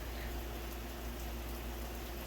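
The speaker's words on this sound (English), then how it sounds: "I hope this rain is not too loud," Steady, dense rain hisses without a break, a uniform wash of patter, moderately quiet, with no one talking.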